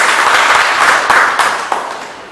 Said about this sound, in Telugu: మనమందరం కూడా ఇలా చప్పట్లు కొట్టి